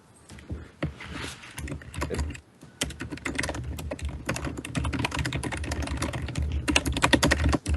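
Rapid clattering keystrokes on a computer keyboard, close and continuous, with a brief pause before the tapping resumes even faster and harder.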